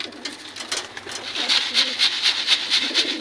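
Rhythmic low cooing of pigeons in a loft, repeated pulses at a steady pace, close by, with a soft background hiss.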